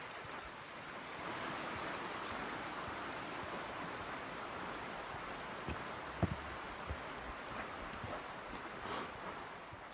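A river flows beside a hiking trail on the Appalachian Trail, a soft continuous rushing murmur of water with a few faint knocks and footsteps near the end.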